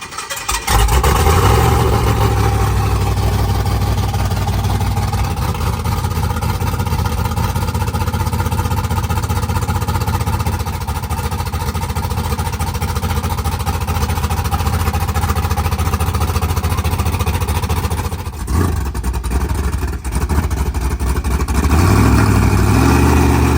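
Engines of a lifted Cadillac and other cars run steadily nearby, a loud continuous mid-pitched drone holding for most of the stretch, with a brief dip near the end before the revs rise again.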